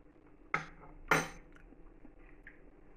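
A metal spoon clinks twice against a pot of homemade soup during tasting, two sharp close taps about half a second apart, followed by faint rustles in a quiet kitchen.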